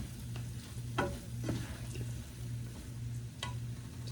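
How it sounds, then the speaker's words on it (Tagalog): A ladle stirs a thick sweet potato candy mixture in a pan, soft scraping strokes and occasional clinks over a low steady sizzle, quiet and close with no talking. "Pag hindi pa kasi lumalaban siya, may hiwalay pa sa sa sandok. Halo-haloin natin mga kasimple."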